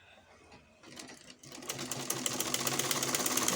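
After some quiet handling, a sewing machine starts up and runs a seam upward, its rapid even stitching growing louder and steady toward the end.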